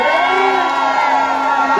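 A large rally crowd in Gatundu cheers and whoops for a politician, Honourable Kawajiko, with a dense, steady roar of voices and shouts lasting the whole moment.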